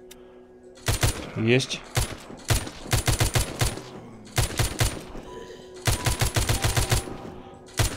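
Video game gunfire from The Walking Zombie 2: sharp bursts of rapid automatic shots in clustered volleys with short gaps, plus a brief rising whine; a voice speaks a single word between bursts.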